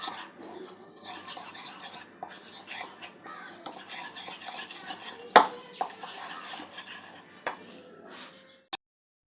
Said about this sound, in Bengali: সামান্য একটু লঙ্কা গুঁড়ো দিয়ে দেবো। ভালো করে মিক্স করে নেব।